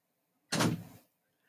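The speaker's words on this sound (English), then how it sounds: "Can you go close the door, please?" A door swings shut with a single muffled thud and a brief swish, heard alone in an otherwise quiet room.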